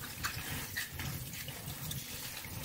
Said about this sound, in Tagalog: Pinapaagos ko diretso yung tubig para hindi na siya malagkit.